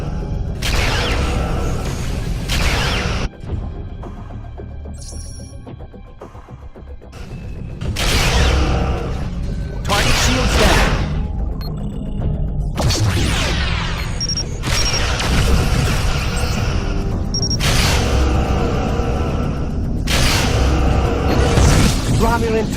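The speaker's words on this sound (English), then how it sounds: "Photon torpedoes ready." Photon torpedoes fire and explode in the space combat game Star Trek Legacy, heard as a series of loud bursts and booms in repeated clusters, with quieter gaps between volleys.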